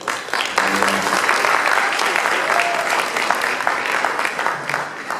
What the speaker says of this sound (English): An additional round of applause